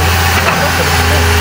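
Excavator engine idling steadily at close range, a constant low rumble with a faint higher whine throughout.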